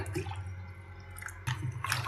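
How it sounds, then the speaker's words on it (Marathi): Cold water from a glass is poured into churned curd to make lassi, giving short wet splashes and dribbles heard close, with a brief pause between bursts. "हा 1 ग्लास पाणी ओतते"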